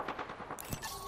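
Gunfire in Apex Legends comes as a quick burst of rapid shots at moderate level, crackling briefly before giving way to a brighter, higher-pitched weapon sound.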